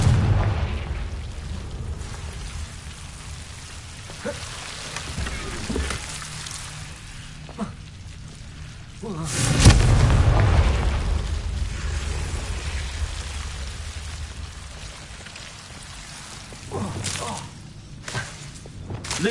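Confringo explosion spell in the Hogwarts Legacy video game, several booming blasts with whooshes, the largest a heavy thud near the middle, set against quieter ambient thumps and a voice.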